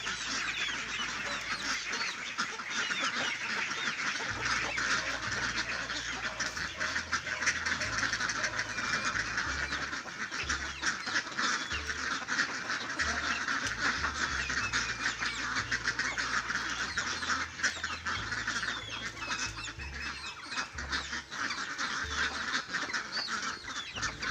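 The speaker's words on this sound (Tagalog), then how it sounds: "Papakain na tayo sa ating maliit na itik." A busy flock of small ducks quacks and honks continuously, chattering close by with steady background noise.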